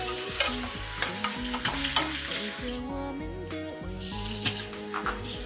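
Cured pork stir-frying in a wok with sauce in a rural kitchen, a dense sizzle under repeated clattering scrapes of a spatula, with background music playing throughout.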